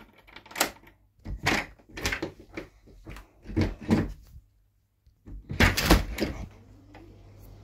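Repeated rattling and thumping of a locked door being tried, several separate bursts of handle jiggling and knocks over a few seconds, fairly close and moderately loud, with a short pause before a final heavier rattle.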